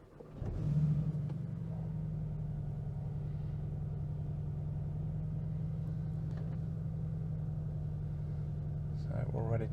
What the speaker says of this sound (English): So let's start up the engine, see what happens.